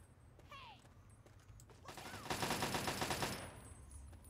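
A raider's rapid gunfire in Fallout 3, a burst of repeated shots at moderate distance lasting over a second amid quieter game sounds and a few brief electronic tones.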